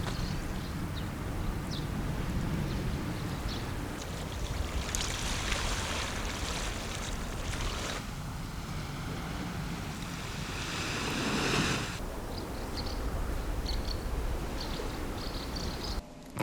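Ocean waves wash onto the shore beside a free car park used for overnight camping, a steady close surf rumble with wind buffeting the microphone and no voices.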